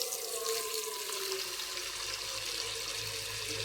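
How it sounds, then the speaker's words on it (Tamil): Water runs steadily from a tap into an idli steamer pot, a constant rushing splash at moderate volume with no talking. "இட்லி குண்டானில் வந்து தண்ணியை பிடிச்சி வச்சுக்கலாங்க"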